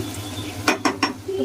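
A spoon stirs and mixes pickle ingredients in a bowl, producing three quick, distinct clinks and scrapes close by over a quiet background.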